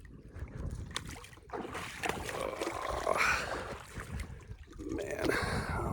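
Footsteps wading through a river at Dinosaur Valley State Park near Glen Rose, Texas, with continuous splashing and sloshing water close by, surging in uneven bursts, and a breathy gasp or two.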